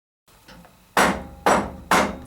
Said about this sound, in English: I'll use the mallet to continue tapping the table to close the gap.